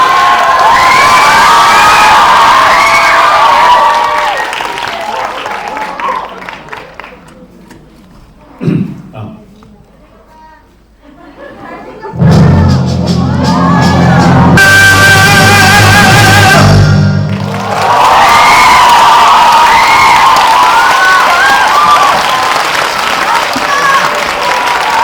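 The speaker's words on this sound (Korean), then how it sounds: "박수!" A theater audience at a sing-along screening and stage greeting for the film Hero loudly claps and cheers, dropping to a lull with a voice and music before roaring applause and shouts return.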